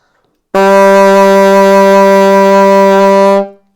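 A single low E on an alto saxophone held for about three seconds, loud, rich and buzzy, close up with no other sounds.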